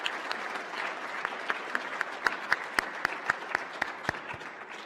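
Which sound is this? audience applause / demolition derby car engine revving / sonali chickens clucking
audience applause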